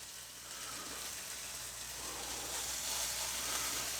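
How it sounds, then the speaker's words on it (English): Steady, close sizzling of marinated pork belly slices frying in a hot pan, a continuous crackling hiss that grows slightly louder, with no talking. "look at that sizzle"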